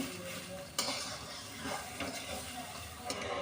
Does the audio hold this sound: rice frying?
yes